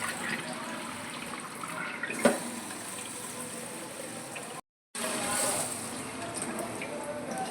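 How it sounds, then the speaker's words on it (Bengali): Rice being washed under running water, a steady close hiss of flowing tap water with a brief interruption midway and faint sloshing of grains. "যতক্ষণ চালের চালটা পরিষ্কার আসছে ততক্ষণই ধুতে হবে"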